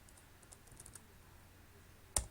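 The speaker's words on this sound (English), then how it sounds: "For this, we open the CMD, we type" A command is typed on a computer keyboard in the Windows command prompt as a quick run of faint, close keystrokes. A louder single key press, probably Enter, follows after a short pause.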